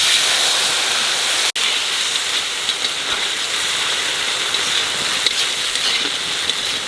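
Spiced water poured into a pan of frying katla fish curry masala, a loud continuous hiss and sizzle that holds steady from start to finish, with one brief break early on.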